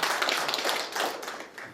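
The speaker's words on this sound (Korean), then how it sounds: "세 분 발제자께 다시 한번 큰 박수를 부탁드리겠습니다" Audience applause for three presenters at a Seoul job policy forum, a burst of many hands clapping in uneven, crackling patter, fairly close and loud, swelling slightly and then thinning out.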